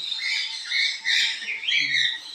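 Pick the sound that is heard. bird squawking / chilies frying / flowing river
bird squawking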